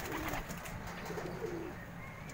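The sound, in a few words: racing pigeons cooing at a loft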